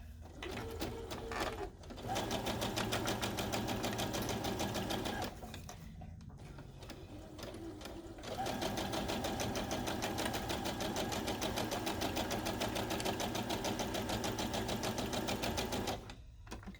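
Home sewing machine stitching fabric for a Boo costume: rapid mechanical whirring runs in long bursts, stopping briefly twice before starting again, close and alone with no talking.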